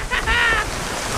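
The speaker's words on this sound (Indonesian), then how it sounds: "Anginnya kenceng banget ya." Strong wind gusting outdoors, a steady rushing roar and microphone buffeting heard alone, with a faint high tonal whistle early on.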